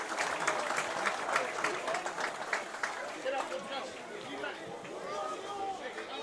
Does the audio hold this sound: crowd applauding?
yes